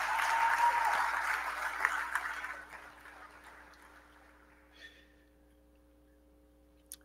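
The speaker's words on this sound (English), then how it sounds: "give yourselves a round of applause." Graduates at a university graduation ceremony applaud themselves, a soft, distant wash of clapping that fades within a few seconds into a quiet hall with a low steady hum.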